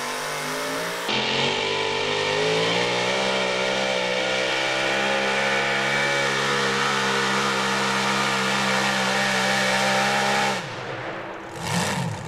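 A blower-equipped four-wheel-drive pulling truck roars at high revs during a run at a truck and tractor pull, its engine tone holding loud and steady for about ten seconds before dropping off sharply.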